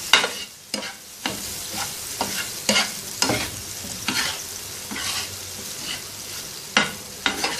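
Goat liver fries on a tawa while being stirred, with repeated sharp scraping strokes of a spatula over a steady crackling sizzle, close and fairly loud.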